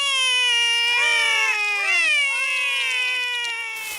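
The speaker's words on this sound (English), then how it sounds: "The kittens are Holly and Fleur" Two cartoon kittens meowing in high, whiny, cry-like calls, several drawn-out mews overlapping in a close, loud run with no talk.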